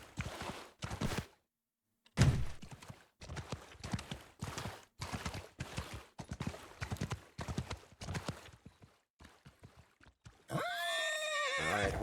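A horse in the samurai strategy game Shokuho neighs and clip-clops on a bridge battlefield, with rhythmic hoofbeats in quick bursts, one short pause and a loud whinny at the end.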